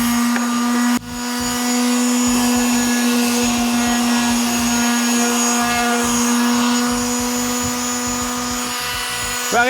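An electric sander works steadily on a wooden bedside table being renovated, a continuous loud motor whine with a steady tonal hum that runs the whole time, briefly dipping near the start.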